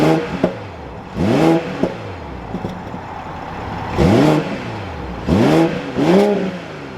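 A 2023 BMW 540i engine revving after start-up: several rising whoops and swelling revs in close bursts, with quieter idle between them, no talking.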